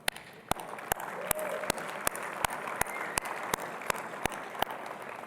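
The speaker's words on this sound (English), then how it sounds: "So I'd like to give you guys a big round of applause" Audience at a robotics championship mentor breakfast applauds the mentors, a crowd's clapping heard at moderate distance, punctuated by regular sharp, loud claps roughly every half second from one nearby pair of hands.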